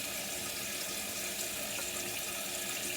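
Cold water runs steadily from a kitchen tap while apple turnovers are being prepared, a constant broadband hiss and splash that stays even and close for three seconds with no talk.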